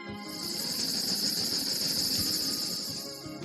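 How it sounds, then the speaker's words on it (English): High, steady metallic squeal from the worn front brake pad wear indicator of a 1990 Chevrolet Suburban, a continuous cricket-like chirping whine heard close and alone. "when you hear a high-pitched squealing or cricket-like warning sound like this"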